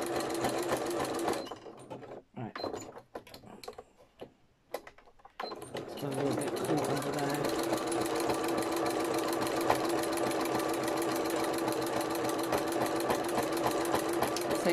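A sewing machine catches the bottom edge of lace on a quilted needle case, starting in short stop-and-go bursts and then running in a steady, close whir for several seconds, with speech heard faintly.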